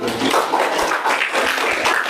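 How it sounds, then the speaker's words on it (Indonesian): A classroom group applauds a presenting group of students, a steady patter of many hands clapping throughout, moderately loud and fairly close. "tepuk tangan buat kelompok 1"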